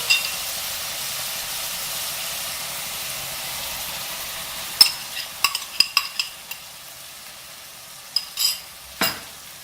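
Peas and eggs fry in a pan with a steady, moderate sizzle and hiss, broken by a cluster of brief scraping and stirring clinks in the second half.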